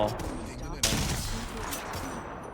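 Rapid bursts of gunfire from an Apex Legends match crackle close and loud over steady game noise, with a sharper salvo near the start and a voice talking beneath.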